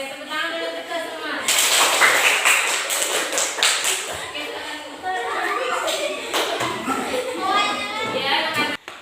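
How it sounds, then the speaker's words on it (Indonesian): A classroom group claps hands together in a long, bright burst of applause that starts abruptly and fades near the end, with a teacher's voice and children's chatter mixed in. "Oke, tepuk tangan dulu kita semua."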